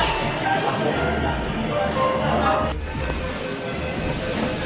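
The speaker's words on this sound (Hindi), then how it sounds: "गाइस ये है नागपुर की मेट्रो।" A Nagpur metro train rumbles steadily with a hissing undertone, loud and close. The sound shifts briefly partway through, then the running noise carries on.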